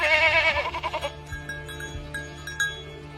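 Sheep bleat loudly and close in a cartoon, a wavering cry in the first second followed by softer scattered bleats and faint farm-animal sounds.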